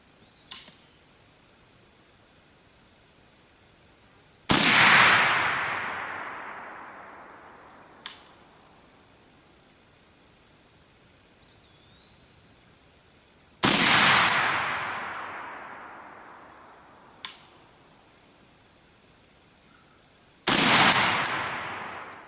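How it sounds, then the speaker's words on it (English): An AK-103K rifle firing Golden Tiger 124 grain full metal jacket ammunition on a range, three loud single shots spaced several seconds apart with long ringing decays, each preceded by a faint click, no talking. "We're firing a Golden Tiger 124 grain full metal jacket ammo."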